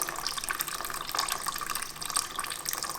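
Distilled water trickling out of the coolant system of a Kawasaki ZX6R motorcycle during a flush into a bucket, a close, steady splashing stream with no talk.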